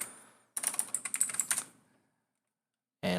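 Rapid burst of computer keyboard typing, a quick run of close, crisp key clicks lasting about a second, then silence before another sound starts at the end.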